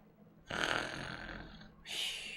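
A person's voice imitates a snore with two rough, breathy bursts, the first long and throaty and the second shorter and airier, close and fairly loud with no words spoken.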